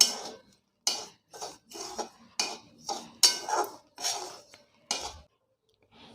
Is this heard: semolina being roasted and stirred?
yes